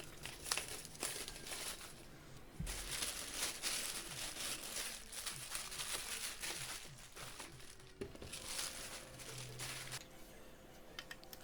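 Triton router being unboxed, with plastic packaging crinkling and rustling in quiet, irregular bursts alongside a few soft knocks and handling sounds.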